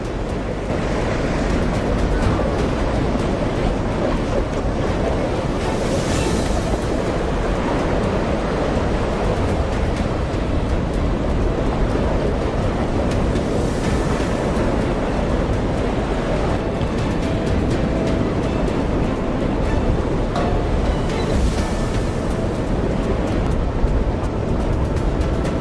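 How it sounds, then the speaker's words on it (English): Towering ocean waves crash and churn at sea during a storm as a boat struggles through them, a loud continuous roar of surf and wind with periodic surging swells and no voices. "Each crashing wave is another test of courage."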